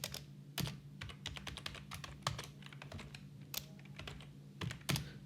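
A SQL query being typed on a computer keyboard: quick, irregular runs of crisp key clicks with a few sharper, heavier strokes, close and clear over a low hum, no talking.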